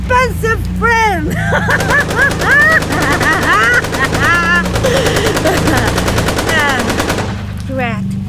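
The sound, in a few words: Tommy gun firing silver-plated bullets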